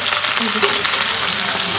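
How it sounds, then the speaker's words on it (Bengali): Vegetables fried with panch phoron spices sizzle and crackle steadily in hot oil, a loud, continuous frying hiss close by with no talking. "পাঁচ ফোড়ন দিয়ে খুব ভালো করে ভাজছি"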